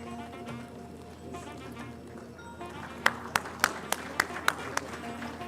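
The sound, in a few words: audience applause at a convocation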